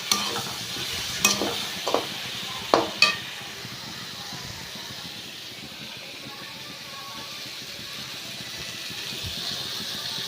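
Whole eggs cook in oil for a Tamil-style egg curry, giving a low, steady background sizzle, with a few sharp utensil knocks in the first three seconds before settling into a quiet, even hiss.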